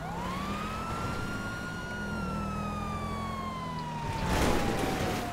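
A police car siren wails in GTA 5 Online, one long falling tone sweeping steadily downward, loud and close, with a brief burst of broadband noise near the end.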